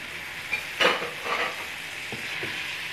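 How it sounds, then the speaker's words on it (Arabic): Potatoes tip into a frying pan with meat, giving a soft thump and rising sizzle, then a few scrapes of stirring over a steady frying hiss. "وبعدين احط البطاطس بتاعتي."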